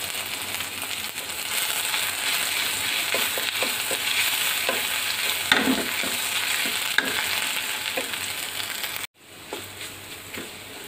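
Ginger-cumin paste and turmeric powder fry in oil in a pan, with a continuous close sizzle and soft stirring scrapes. Near the end it cuts out abruptly and then resumes more faintly.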